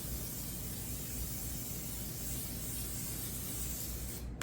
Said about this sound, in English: you're gonna grease a bowl that you're gonna let that sit and rise in. I just use a spray